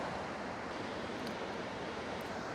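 A waterfall pours steadily as a dense, even broadband rush of water, constant and fairly close throughout with no voices.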